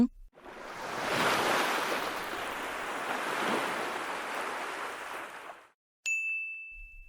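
Sea waves surging and washing onto an island shore, a loud continuous roar lasting several seconds before cutting out, followed by a bright ringing tone.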